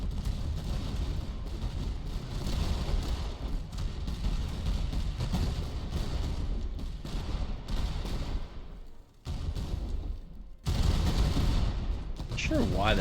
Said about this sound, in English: we might be able to get these guys to rout if we just have the Grenzers continue to shoot at them